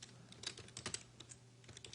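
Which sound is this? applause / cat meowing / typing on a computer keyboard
typing on a computer keyboard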